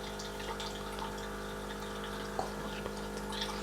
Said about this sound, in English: So this is now cold water that's pouring to make sure that the milk is the right temperature